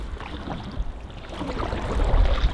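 A boat paddled on the Loire river, soft splashing and water swishing with wind noise, growing slightly louder toward the end, no talking.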